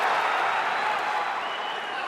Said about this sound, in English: Gets a reaction out of the crowd